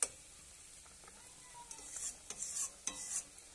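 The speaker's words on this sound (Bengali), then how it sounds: "তো মাছগুলো এবার ঢেলে দিচ্ছি এর মধ্যে, ভেজে রাখা মাছগুলো।" Fried fish pieces go into a boiling sour fish curry, giving soft stirring and light sizzling with faint clinks of a pan, quiet and close with no talking.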